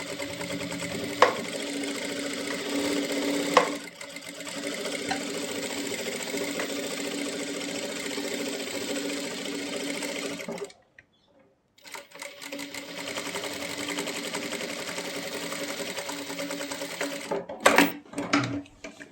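A sewing machine stitches a lock into fabric to secure the seam, running in a steady, fast mechanical chatter for about ten seconds. After a brief pause it starts again, ending with a few louder clacks.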